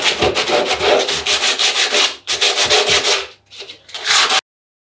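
Sandpaper at 80 grit rubs over a filler coat on a glassed-on surfboard fin in steady back-and-forth strokes, loud and close, with a short pause and a brief faint stretch before a final burst.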